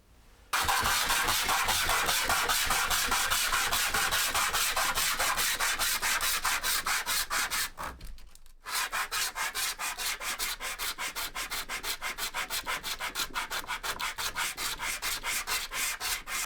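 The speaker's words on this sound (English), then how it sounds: "I've basically just fashioned this tiny little sanding block that will be used to get the fuller clean" A small sanding block works back and forth along the fuller of a steel sword blade, making rapid, even, rasping strokes that stop briefly partway through and then resume at the same close, steady rhythm.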